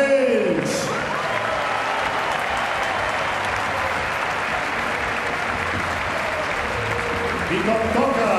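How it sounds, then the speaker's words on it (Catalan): Sustained, loud stadium crowd applause fills Spotify Camp Nou as Jordi Alba and Sergio Busquets say goodbye, a dense unbroken roar of clapping and cheering lasting several seconds, with an announcer's voice briefly over it at the start. "Amb els trofeus, amb Jordi Alba, amb Sergio Busquets, l'equip, l'estaf, un fort aplaudiment per ells!"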